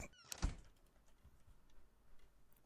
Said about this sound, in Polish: drzwi tutaj się właśnie otwierały i zamykały